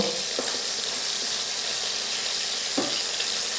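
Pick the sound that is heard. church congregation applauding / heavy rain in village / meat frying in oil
meat frying in oil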